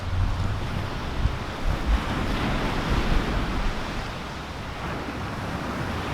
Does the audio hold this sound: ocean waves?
yes